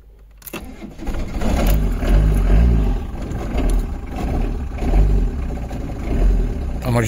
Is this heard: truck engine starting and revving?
yes